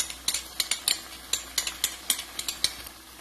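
Oyster and hoisin sauce stirred in a pan with a utensil, giving a steady run of close, sharp scraping clicks against the metal under a faint background hum.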